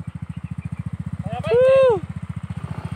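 A Yamaha Fino scooter with a 54mm bore engine idles close by, a fast, even putter that continues throughout while a voice briefly speaks over it.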